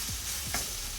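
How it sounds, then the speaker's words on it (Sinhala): Seeni sambol, a Sri Lankan onion relish, stirred as it fries in a pan, with a steady close sizzle and a few spoon scrapes throughout. "ඊට පස්සේ පුළුවන් වාට මේක හොඳට නැවත වතාවක් කලවම් කරගන්න"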